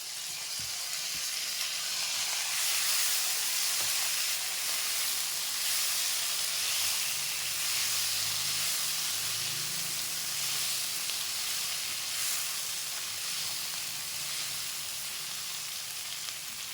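Tomatoes sizzle in a pan on a low flame while masala dosa filling is cooked, a steady, loud, close frying hiss that continues without pause and with no talking.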